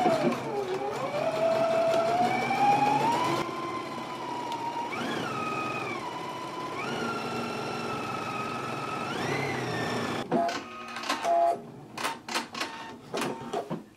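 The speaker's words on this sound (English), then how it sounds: "I'm going to begin stitching at the hem and work my way up to the top." Sewing machine stitching a garment side seam from hem to top, a steady whirring motor that shifts pitch in several runs, then stops into a few sharp clicks and taps.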